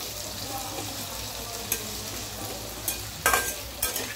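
Potatoes fry and get stirred into a chicken curry in a home kitchen, a steady low sizzle with a few sharp scrapes and clinks of the spoon against the pan, the loudest near the end.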